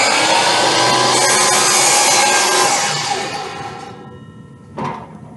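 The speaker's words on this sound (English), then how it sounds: "I start it up, make sure the blade's up to full speed, plunge it down, wait till it stops spinning" A power saw screams at full speed, plunges into wood and then spins down to a stop, followed by a single thump, loud and close.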